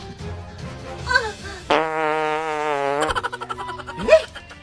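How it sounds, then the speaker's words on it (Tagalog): A fart in a comedic Filipino skit: one sustained, loud buzzing blast with a steady tone, set between bursts of talk before and after. "Utot lang yun."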